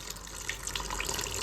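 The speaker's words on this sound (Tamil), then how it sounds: "அரைச்சு வச்சிருக்க புளி தண்ணி" Ground tamarind water pours into a cooking pot of masala with turmeric, giving a steady, close liquid splashing and trickling stream with no talking.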